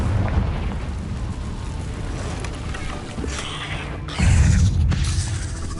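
A Confringo fire spell goes off in Hogwarts Legacy: a steady roaring, whooshing rumble rises into a heavier, louder boom near the end, with brief crackling bursts along the way.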